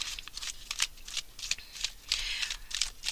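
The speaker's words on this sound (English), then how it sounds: "I shuffled the cards" Tarot cards being shuffled by hand in a quiet room, a series of soft, papery riffles and slaps in uneven bursts, close and clear with no talking.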